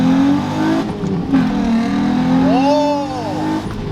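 An Infiniti G35 coupe engine revs hard under full throttle, a loud steady drone rising in pitch, close by with no talk over it.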